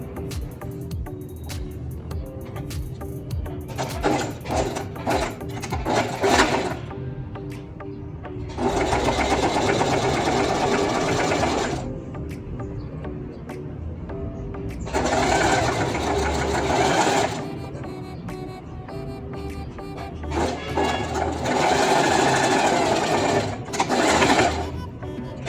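An electric sewing machine stitches a sarung seam in a sewing class, running in three long bursts of steady whirring with pauses between them, loud and close with no talk.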